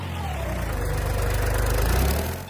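An old tractor engine runs steadily at close range, giving a loud, continuous low rumble with a throbbing idle rhythm that eases slightly at the very end.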